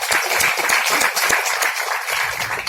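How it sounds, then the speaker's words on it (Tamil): Audience applause at a Tamil film event, a steady dense wash of clapping sustained throughout with no voices over it. "தயவு செஞ்சு ஒரு கைத்தட்டல் கொடுங்க"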